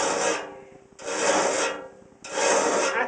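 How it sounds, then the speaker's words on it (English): A file rasps across the steel teeth of a circular saw blade being sharpened for cutting firewood: three long, loud, gritty strokes close by, each separated by a brief pause. "always sharpen the teeth that are set to the back"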